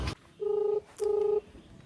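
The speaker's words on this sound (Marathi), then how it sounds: "ईशाला फोन लावायलो." Two steady electronic tones from a phone, each about half a second long, following a brief click at the start.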